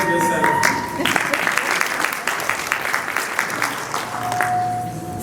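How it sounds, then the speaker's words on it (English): Guests at a university pharmacy school's 50th anniversary gala dinner applaud themselves, filling the room with continuous clapping of moderate loudness and a faint held tone in the background. "I think you should applaud yourself."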